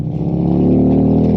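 Harley-Davidson Street Glide with Cobra exhaust pipes, a loud, deep engine rumble held steadily and close for a brief moment.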